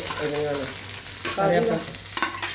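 Grated coconut is stirred as it fries in a pan, giving a soft sizzle broken by scraping stirring strokes at irregular intervals.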